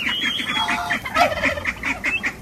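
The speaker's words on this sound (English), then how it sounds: "And these are all of our turkeys." Turkeys on a farm raising young birds gobble in quick, overlapping bursts, a noisy flock calling close by with no talk over it.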